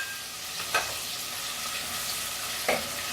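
Peppers, onion and two bay leaves sautéing in a saucepan, a soft steady sizzle with a couple of brief stirring clinks, quiet and close.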